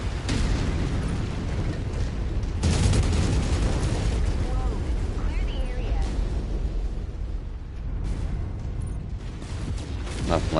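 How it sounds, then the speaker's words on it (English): A nuclear explosion goes off in a city in the MechWarrior 5 video game, with a loud, sustained rumbling blast and crackling debris, plus several further heavy bursts and mechanical clanks. "Nothing like having a nuclear explosion in the middle of the city you're trying to protect."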